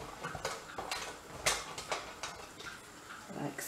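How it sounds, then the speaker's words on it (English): Cheddar cheese is grated on a grater for a cottage pie topping, making a series of short scraping strokes at an uneven rhythm, close and fairly quiet. "I'm going to grate the cheddar, watching our fingers very carefully"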